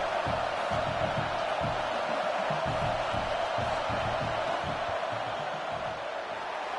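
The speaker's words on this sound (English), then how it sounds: "This crowd trying to do its part to get inside the kicker's head." Stadium crowd noise in an NCAA football video game as fans try to rattle the kicker during a field goal attempt: a steady, loud roar with a low commentator-style voice pulsing underneath throughout.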